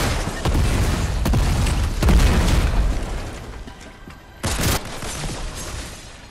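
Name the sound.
grenade explosion in the video game Fortnite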